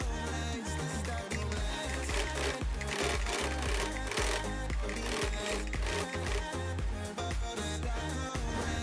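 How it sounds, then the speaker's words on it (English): A sewing machine runs steadily while sewing a straight stitch on bag fabric, its needle clattering in a fast, even mechanical rhythm, close and loud, without pause. "I'm taking it to the sewing machine and I'm going to make a straight stitch"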